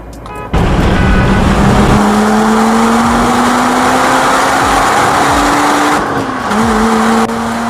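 A Seat Ibiza FR 6L PD130 track car pulls hard from a 40 mph rolling start, its diesel engine droning loud and close as it climbs steadily through the revs, with a brief gear change before pulling on.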